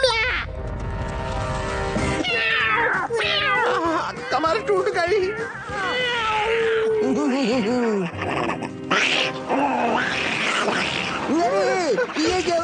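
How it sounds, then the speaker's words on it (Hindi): Cartoon cats meow and yowl in a chaotic animated scene, with several loud, wavering cries overlapping one another, mixed with music and a character's speech. "मेरी बिल्ली मुझे पे म्याऊं।"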